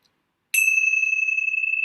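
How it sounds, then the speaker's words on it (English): A single bell is struck once to close a meditation session, and its clear, bright tone rings on steadily to the end, loud and alone. "let's close our time together with the ringing of the bells of hope"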